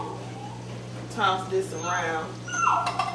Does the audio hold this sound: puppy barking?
yes